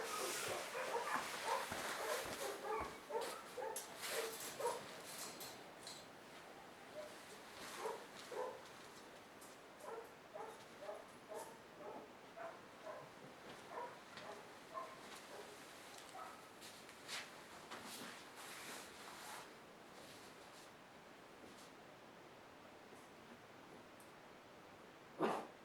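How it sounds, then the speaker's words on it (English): A blue-collared male dog barks in a long series of sharp, repeated yips and barks, fairly faint and at a slight distance, the barks closely spaced and slowing toward the end. "What are you barking at?"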